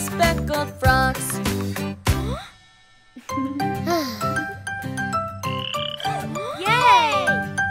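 Cartoon frogs croak repeatedly through a children's nursery rhyme song about speckled frogs, the croaks mixed with bright sung melody and jingling music, a brief near-silent gap around the middle before the singing and croaking resume loudly.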